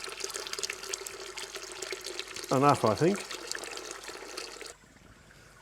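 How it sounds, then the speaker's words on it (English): Sparge water is poured over grain during a home brew of a New England IPA, a continuous splashing, trickling flow that stops abruptly near the end, with someone briefly speaking partway through. "So I'm going to sparge with 8 litres of water"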